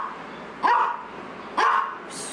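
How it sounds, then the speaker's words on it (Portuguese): A dog gives two sharp, close barks about a second apart, each loud and slightly yelping, with a quiet indoor background between them. "Não é pra latir."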